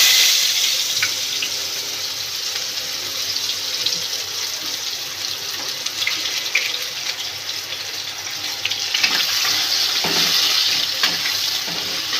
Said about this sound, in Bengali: পেঁয়াজটা আমি বাদামি মতন করে একটু ভেজে নেব।